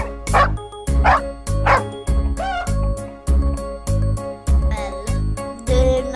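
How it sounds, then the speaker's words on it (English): A dog barks repeatedly in a steady rhythm, about nine sharp, close barks with brief pauses between them. "Dog."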